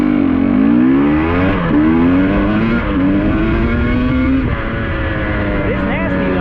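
GasGas EC300 dirt bike with an aftermarket ECU and throttle body block idles low and uneven, the engine note sagging and wavering close by, loud and steady with no talk.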